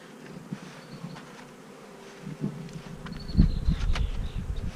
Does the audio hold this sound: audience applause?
no